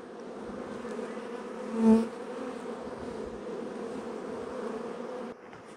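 Honeybees buzz around the entrance of a log hive, a dense steady hum close by, with one louder bee passing near midway and the buzz dropping slightly toward the end.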